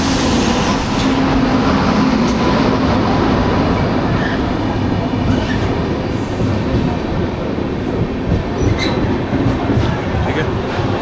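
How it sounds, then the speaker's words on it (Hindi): A train pulls into a station on a hot day at an Indian university campus, its continuous rumble and rattling wheels filling the scene, with faint squeals and occasional clanks. "ये देखो हमारी ट्रेन आ गई।"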